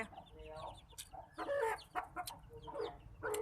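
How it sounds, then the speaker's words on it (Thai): Chickens cluck in short bursts at close range, with some squawks mixed in over a faint background hum. "นี่เสียงเป็ดเสียงไก่"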